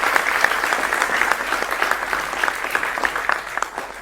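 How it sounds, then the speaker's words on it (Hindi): A studio audience breaks into steady, dense applause at a televised defence news debate, loud and continuous for the whole stretch with no voices over it. "सर आपका भी जोरदार तालियों के साथ सभी का स्वागत है"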